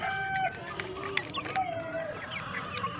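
Sasso heritage chickens in a small backyard coop in the countryside cluck and chatter continuously, with overlapping soft calls at moderate distance and no talking.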